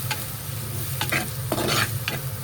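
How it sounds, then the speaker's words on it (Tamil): Spice powders such as chilli and turmeric frying in oil, a continuous close sizzle broken by a few scraping stirs, with a low hum underneath and no speech. "ஸோ இந்த மாதிரி எண்ணெயிலே போட்டு ஃப்ரை பண்ணிக்கோங்க"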